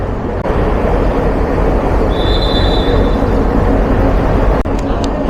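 Avijatri Commuter train on its inaugural run from Dhaka to Gopalganj, a loud steady rumble of wheels and carriage throughout, with a thin high squeal rising briefly in the middle.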